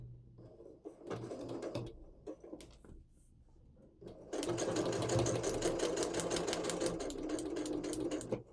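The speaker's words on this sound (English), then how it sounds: "So fold that back again and we'll stitch that piece down." A sewing machine stitches down a fabric piece on a Christmas cracker table topper, with a few short bursts of stitching followed by a loud, steady run to the end, close up with no talking.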